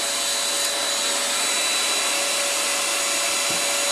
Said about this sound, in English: when you're vacuuming, you run up on something that's going to clog the vacuum, it will turn off the agitator